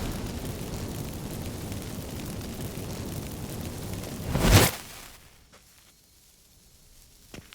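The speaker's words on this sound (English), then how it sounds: "Get ready for some magic fireworks." Magic fireworks set off by lit incense in The Witcher 3 video game: one sharp, loud bright burst rising out of a steady noisy game backdrop, then a quick fade into near silence.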